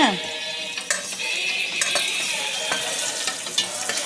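Chana dal, urad dal, onion and cumin fry in sesame oil, giving a steady, close sizzle broken by repeated scraping and tapping of a spatula in the pan; no talking.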